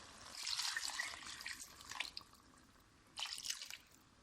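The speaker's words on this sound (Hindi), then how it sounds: "इसमें 2 कप पानी शामिल कर दिया है।" Two cups of water are poured into a pot of cooking karahi meat, a soft splashing pour that rises and falls across a few seconds with a short second burst near the end. No one speaks.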